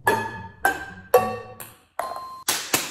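A ball bouncing during a trickshot, hitting hard surfaces and a metal saucepan with several separate bright pinging clinks, each ringing briefly before the next bounce.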